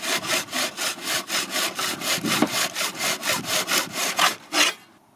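Blue EVA foam spins on a rudimentary drill-powered lathe while being shaped into a fishing rod handle, giving a rhythmic rasping scrape in even strokes about four per second, close and steady, then stopping abruptly.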